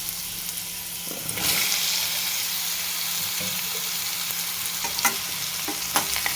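Chopped ridge gourd pieces fry and sizzle steadily in an oiled pan with turmeric, a continuous close hiss broken by a few soft clinks and stirring scrapes.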